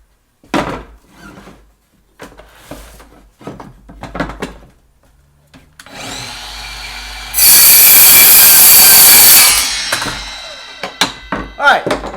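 A Craftsman 7 1/4 inch cordless miter saw cuts through a piece of trim: a loud, sustained whining rip lasting a few seconds, preceded by quieter handling clatter and followed by the blade spinning down amid some talk.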